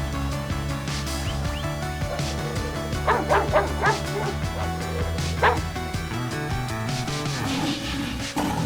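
A pack of wild dogs on alert barks and yips in quick overlapping bursts, some whimpering, close and fairly loud over a steady background music bed.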